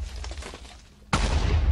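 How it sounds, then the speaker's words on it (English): A TNT bow in a Minecraft-style game sets off a sudden loud blast that cuts in sharply after a quieter stretch of rumbling and then keeps roaring, with no talking. "Here's a bow. Makes an explosion."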